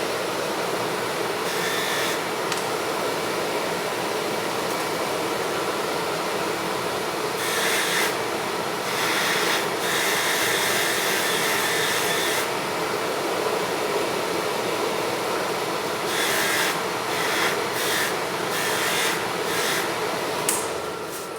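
A vacuum extractor on a jewelry polishing machine spinning at 2800 rpm runs while solid silver pieces are polished, giving a steady, loud whooshing drone with intermittent brighter hissing bursts as work is pressed to the wheel.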